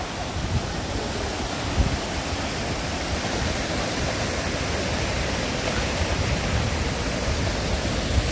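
Steady broadband rush of the Sai waterfall near Karnala fort, set in a valley ringed by hills, a continuous even roar heard up close with no talking.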